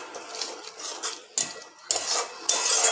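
Metal spoon scraping and knocking in a pan as a spiced masala with Kashmiri chili powder and a splash of water is stirred and sautéed for a paneer dish, steady scraping with three sharp clanks near the end.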